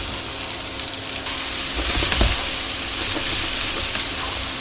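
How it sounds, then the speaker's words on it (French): Vegetables poured into hot olive oil in a pan, giving a steady close sizzle and hiss that swells as they land and keeps frying evenly, with no talk. "Je vais rajouter de l'huile d'olive et je vais verser les légumes."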